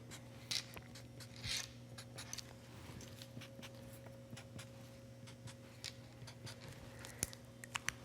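Pen or marker drawn across a paper sewing pattern for a knit top, soft faint scratching strokes with a couple of brief rubbing bursts over a quiet room hum.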